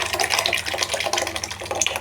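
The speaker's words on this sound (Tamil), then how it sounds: "இப்போ வேக வச்ச பருப்பு எடுத்து இதில் ஊற்றிக்கலாம்." Cooked lentils are poured into a pot of simmering vegetable sambar, a steady wet splashing and gushing that runs continuously, fairly close and with no voices.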